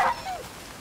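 A wolf dog creature whimpers in the survival video game Icarus, one short high yelp that trails off into a fading whine over less than a second.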